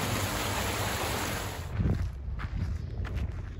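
A small desert stream in Nevada runs with a steady broadband rush of flowing water close by, then softens slightly as faint footsteps on the trail are heard.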